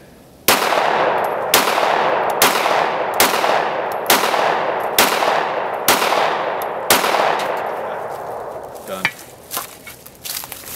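A gun fires about eight loud, sharp shots at a steady pace as a full magazine is emptied, then the firing stops and quieter clatter and faint voices follow.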